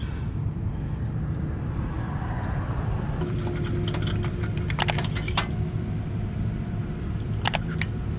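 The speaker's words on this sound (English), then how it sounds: "Screw one out." A screw is worked loose from a Jeep Wrangler fog light bracket, making small metallic clicks and ticks close by over a steady low background hum, with no talking.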